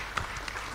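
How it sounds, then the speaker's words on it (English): A brief patter of light applause at an international seminar, several people clapping at once, fairly faint and quickly over. "let's give applause"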